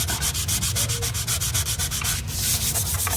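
A watermark is sanded out of a wood floor, a close, loud, rhythmic rubbing with quick repeated back-and-forth strokes and no voices.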